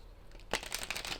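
Tarot deck shuffled by hand, a sudden close burst of papery riffling and flicking that continues steadily after a quiet start.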